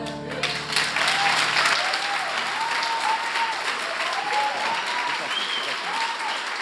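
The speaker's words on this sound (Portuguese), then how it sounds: "Você pode aplaudir mais forte, porque é para Jesus." A church congregation applauds steadily and loudly throughout, sustained clapping filling the room, with voices and sung or called-out tones rising above the applause.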